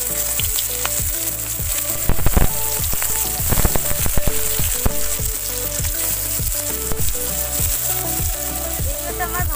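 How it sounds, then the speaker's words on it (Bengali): Boiled jackfruit frying lightly in a pan for a Bengali jackfruit and pea curry gives a steady loud sizzle, with repeated clattering knocks of a utensil stirring through it and no talking. "এবারে আমি সিদ্ধ করা এঁচোড়টা হালকা ভেজে নেব।"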